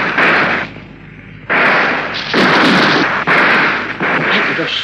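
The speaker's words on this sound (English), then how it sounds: "I'll have a shot at him." Gunshot effects in a radio drama: several loud, close, noisy bursts in quick succession, each followed by a short decaying tail.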